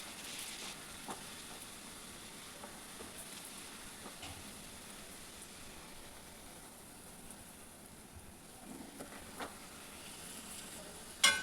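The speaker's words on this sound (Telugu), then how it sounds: "నేను ఒక్కొక్క పూరిని ఫ్రై చేస్తాను." Puris fry one at a time in very hot oil, giving a steady, dense sizzle that crackles continuously and close up throughout, with a few sharper pops and a brief clatter at the end.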